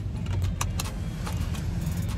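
Steady interior rumble of a moving car with faint rattles and ticks over it, continuous and fairly loud, no voices.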